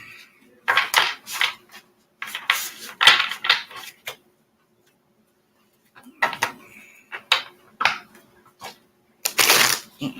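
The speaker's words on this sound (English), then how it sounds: "I ain't even shuffled these yet" Brand-new tarot deck being shuffled: repeated bursts of crisp card riffling and flicking close by, separated by short pauses, with no talking.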